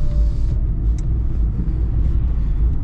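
A cheap used Fiat drives along the road, with steady low cabin rumble and road noise throughout and no voices.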